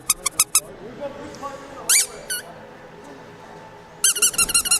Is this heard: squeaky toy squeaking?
yes